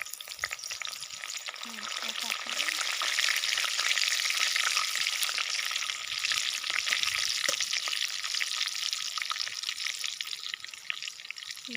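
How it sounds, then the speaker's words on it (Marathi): Cumin seeds, turmeric, asafoetida and curry leaves spluttering in hot oil, a steady close sizzle with crackling pops and occasional stirring, no talk. "त्यात मी आता जिरं, हळद आणि हिंग थोडीशी घालून घेते. त्यातच आता कढीपत्ता पण फोडणीला देते"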